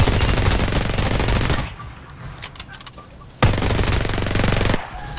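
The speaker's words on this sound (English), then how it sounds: "Ayan, nagbabarilan dito." Rapid automatic gunfire in the shooter game Farlight 84, two long, loud sustained bursts of fast evenly spaced shots separated by a quieter pause with scattered clicks and faint distant shots.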